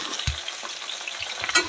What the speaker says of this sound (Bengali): এই কড়াইতে পটলটা ভালো করে ভেজে নেব।